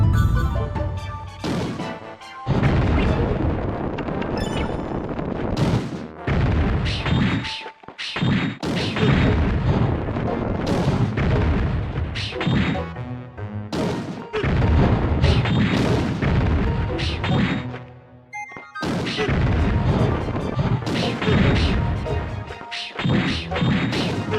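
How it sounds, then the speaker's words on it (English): Cannon fire in the video game Alundra: heavy booming blasts and crashing impacts come in dense, loud bursts with brief gaps between them. "This cannon should be the end of you!"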